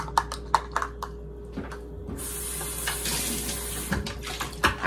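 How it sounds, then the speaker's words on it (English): A kitchen tap runs while something is rinsed during hot chocolate preparation, a steady close stream of water that starts partway through, with a few knocks and clatters before and around it. "I like to rinse."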